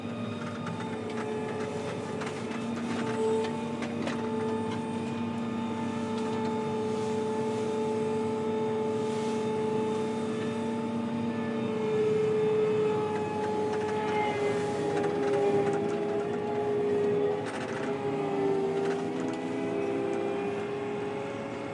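A John Deere Hillmaster combine harvester drives along a slippery farm track, giving a steady, loud engine drone with sustained tonal whine throughout and no talk.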